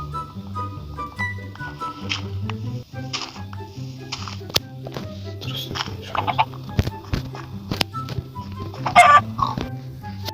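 Short game-style clucks of a Minecraft chicken pop up among clicks and blips over a looping background melody, with a voice speaking occasionally.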